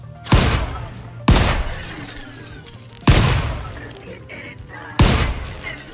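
Four loud, sharp gunshot blasts with rough, ringing tails, spaced about a second apart, fired at robots in the game Scrap Mechanic, with no talk over them.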